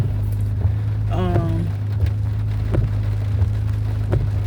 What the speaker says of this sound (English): The rain been here for a couple days now, so it's already been raining.